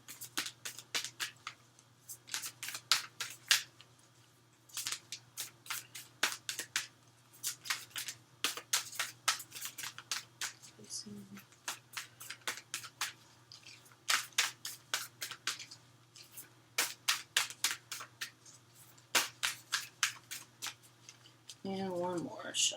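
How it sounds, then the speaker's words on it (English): Oracle cards being shuffled by hand, a quiet run of quick crisp riffling clicks and taps in repeated bursts over a steady low hum, close and clear with brief pauses between bursts. "And one more shuffle."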